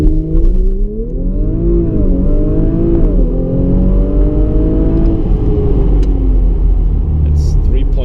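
An Audi RS5 pulls away from a standstill on a straight road, its engine revving up loud and close through rising pitches with short dips at gear shifts, and a voice speaks over it at times.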